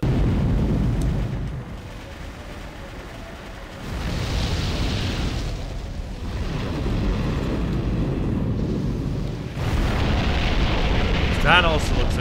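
Cannon fire and heavy booming blasts from the mech combat video game Armored Core VI, loud rumbling bursts recurring across the clip with a player talking over them.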